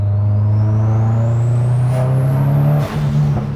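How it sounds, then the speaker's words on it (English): A Subaru WRX STI engine pulls hard with a rising drone and whine, loud and close, then gives a brief sharp pop of backfire near the end. "Little backfire there."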